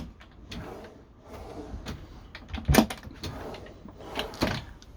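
Drawers and cupboard doors in the kitchen of a Frankia A740 Plus overcab motorhome slide and bump shut, several soft knocks and one sharper clunk near the middle, close by with no talking.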